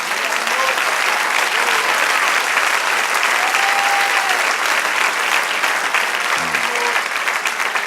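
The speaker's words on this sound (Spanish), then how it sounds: "Den un aplauso al Señor" A church congregation at a Spanish-language service claps loudly and steadily, a thick wall of applause that fills the room without a break, with faint voices underneath.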